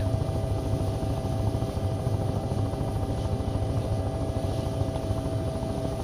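Steady helicopter rotor and engine drone from the flight game Take on Helicopters, a continuous loud chopping throb that holds evenly with no talk over it.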